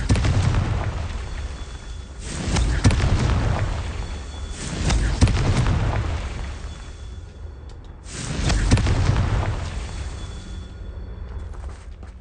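Blasting-spell explosions go off in the Hogwarts Legacy video game, three deep rumbling booms several seconds apart, each with a sharp crack at the start and a long low roll afterward.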